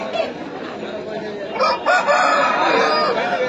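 A rooster crows nearby at a busy Sunday pet market in Pileru, a drawn-out call rising and falling over a couple of seconds, with faint voices in the background.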